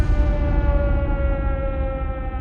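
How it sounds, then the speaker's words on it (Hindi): A loud, sustained tsunami warning siren wails on a steady pitch, blaring close by without interruption. "ये सायरन सुनामी आने के पहले बजने वाले सायरन थे।"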